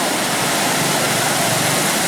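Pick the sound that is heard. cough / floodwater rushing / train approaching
floodwater rushing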